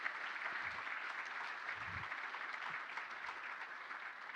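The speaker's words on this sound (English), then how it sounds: "So I want you all to give Zena a round of applause." Faint, steady applause from an audience welcoming the community's first woman city manager at a State of the City event, a soft continuous patter of hands heard from a distance.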